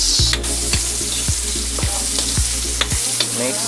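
Pancit noodles stirred in a hot pan with a steady, loud sizzle throughout, punctuated by regular metallic thumps of the utensil against the pan.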